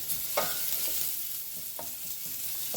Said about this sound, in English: as soon as your onions are sauteed and are translucent